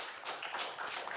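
A few hands clap together in brief, fairly soft bursts, quick sharp slaps in loose succession within a casual podcast setting.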